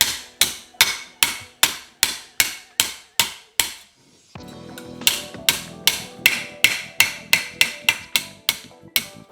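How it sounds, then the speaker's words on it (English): Hammer blows on a metal panel clamped to a brake rotor, shaping curvature into a front-end panel for a vintage Porsche 911: sharp, loud, evenly spaced ringing strikes, about twenty in all, with a brief pause partway through. "start hammering down so I can just get some curvature into this panel"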